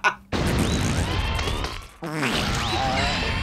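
A cartoonish fart sound effect from the Atomic Bomberman video game, a short blurting burst set among other noisy game effects.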